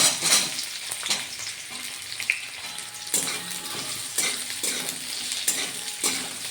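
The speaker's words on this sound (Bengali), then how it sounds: "দেখুন রসুনগুলো হালকা গোল্ডেন ভাবে করে দিয়ে, এবার ওর উপরে পেঁয়াজগুলো দিয়ে দিচ্ছি" Onions fry over lightly golden garlic in a pan, a loud continuous sizzle with repeated stirring scrapes and clatters of the spoon, close up and without speech.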